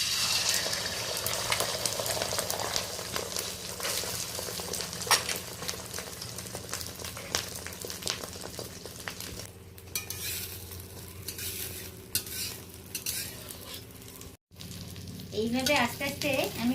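Ladlefuls of egg omelette batter made with six eggs, onion, green chili and salt fry in hot oil, giving a continuous crackling sizzle with stirring and scraping close by, and a brief dropout near the end.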